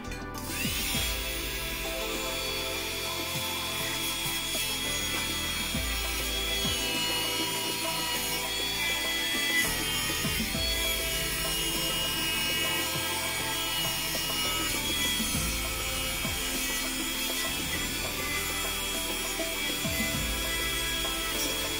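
A rotary tool with a burr grinds away wood on the trunk of a ficus microcarpa ginseng bonsai, making a continuous high whine with rasping, scratching texture that rises and falls as it bites, close and steady.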